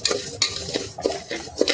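Raw rice dry-roasting in a pan as a utensil stirs it, giving repeated scraping clinks of metal on metal every half second or so over a faint crackle, close and fairly loud, no voices.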